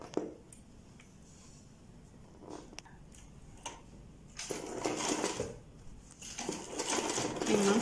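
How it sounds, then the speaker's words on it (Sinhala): An SM-MC984 embroidery sewing machine stitches, its soft mechanical whir rising to a louder, busier run in the second half, with quiet handling noises between. "මේ මම පෙන්වන විදිහට අපිට මහ ගන්න පුළුවන්"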